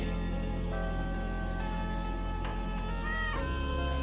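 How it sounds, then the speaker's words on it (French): A cat meows several times, drawn-out and clear, over a steady dense background of sustained tones and noise in a dark 1990 horror film scene. "où le chat est arrivé."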